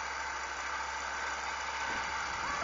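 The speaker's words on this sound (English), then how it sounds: "You're just running the tractor backward to smooth it all out." A tractor engine runs steadily while smoothing out a cutter road on a farm, a constant low rumble with a mid-range drone, unchanging in level and with no voices over it.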